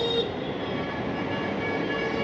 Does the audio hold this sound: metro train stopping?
yes